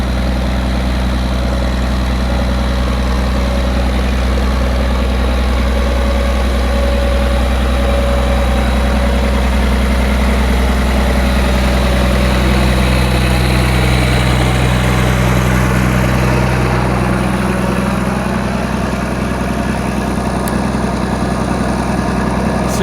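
A cold engine idles steadily on a cold morning after being coaxed to start with starter fluid, a loud, constant low rumble with a slight shift in tone partway through and no talking.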